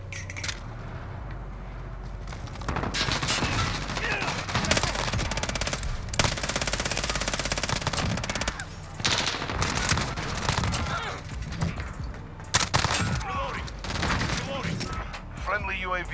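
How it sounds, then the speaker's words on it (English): Rapid automatic gunfire in Call of Duty: Modern Warfare, loud bursts and sustained rattling shots close by, broken by brief gaps, with a player talking over parts of it. "I'm taking fire!"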